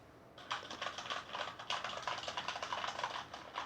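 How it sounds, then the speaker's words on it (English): Typing on a Corsair Vengeance K70 mechanical keyboard with Cherry MX Red switches: quick, fairly soft keystroke clatter in close irregular runs, near and alone, with a brief pause midway. "don't seem to make that much noise, which is pretty natural for Cherry MX red switches"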